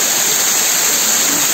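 Strongly flowing waterfall heard up close, a loud, dense, unbroken roar of rushing water with no pauses.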